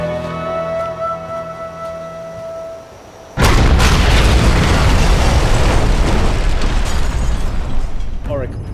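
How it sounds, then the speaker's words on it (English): A missile explosion in a SOCOM 4 video game cutscene: a sudden loud blast after a quieter stretch of tense music, followed by a long, roaring rumble of debris and fire. "He's gonna fire a missile into the street."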